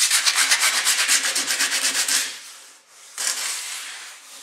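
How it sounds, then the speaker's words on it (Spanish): Sandpaper rubs back and forth over a chair reinforced with paper, fast rhythmic scratching strokes close up, pausing briefly before another stroke resumes. "Y ahora ya cuando terminemos de esta pasada ya le daremos la lija."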